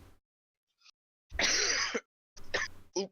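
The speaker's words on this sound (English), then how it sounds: "halfway through I started coughing" A harsh, rough coughing fit during an online tabletop game session: one long raspy burst, then a pause and two shorter coughs close to the microphone.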